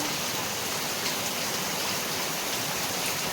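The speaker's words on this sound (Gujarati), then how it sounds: "ફૂલ ધોમધોકાર વરસાદ ચાલુ છે" Dense, unbroken roar of heavy rain pouring down, steady and broadband with no pauses.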